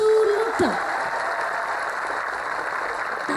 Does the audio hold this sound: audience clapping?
yes